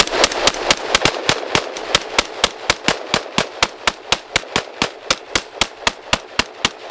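Rapid, evenly spaced gunshots fired at a hockey puck, about twenty-five sharp loud cracks in steady succession over several seconds, close and without talk.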